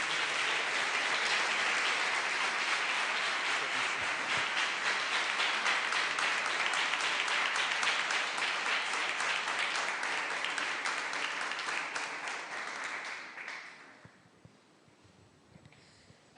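A church congregation at a missions service applauds together, loud sustained clapping from a large crowd that thins out and fades around thirteen seconds into near quiet.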